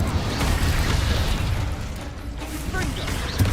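A burst of fire from the Incendio spell in Hogwarts Legacy, a dense, roaring blast with crackling low rumble that fades and swells again, with a sharp pop near the end amid busy game effects.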